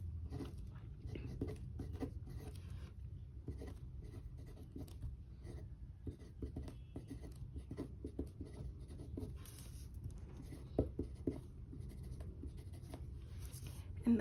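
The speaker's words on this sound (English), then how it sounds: "Let's start to write something." Ballpoint-style pen writing on paper, an Ohto Conception 0.5mm, with a steady close scratching and scraping of the tip running continuously through the whole stretch, a few sharper taps near the end.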